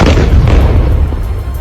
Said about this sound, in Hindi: इसके कुछ ही पल बाद तो मानो वहां बमों की बारिश शुरू हो गई।